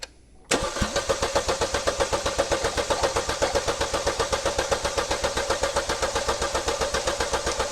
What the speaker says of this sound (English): we're going to crank it, and we're going to monitor the amount of oil that comes out of this feed line